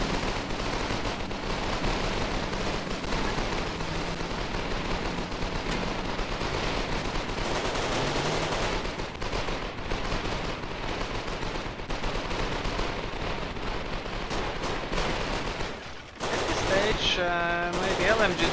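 Small arms and submachine guns fire in a Foxhole battle, with rapid bursts and scattered cracks rattling steadily at mid distance, a brief lull, then more shots. Commentators talk over it.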